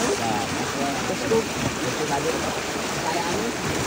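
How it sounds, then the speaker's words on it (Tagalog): Strong water current rushing out as a large fishpond is drained outdoors, a steady dense broadband roar close by that holds level throughout. "Wow, lakas ng agos."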